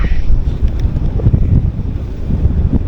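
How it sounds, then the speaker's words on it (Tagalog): Strong wind buffets the microphone with a constant heavy roar and rumble, no voices present, on a ride toward Dingalan. "Sa lakas ng hangin."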